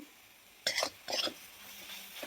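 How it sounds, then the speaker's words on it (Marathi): A spoon scraping and stirring modak filling with grated nutmeg in a pan, two short distinct scrapes followed by a softer rustle, close and fairly quiet with no talking. "किसून घेतलेलं जायफळ आहे आणि याला असं मिक्स करायचं आहे."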